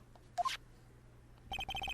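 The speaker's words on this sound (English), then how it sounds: "what is with this stupid sounding ringtone?" A cell phone in the Phoenix Wright: Justice For All courtroom game goes off with a bright repeating electronic ringtone of short beeping tones in quick succession, preceded by a brief chirp; no voices.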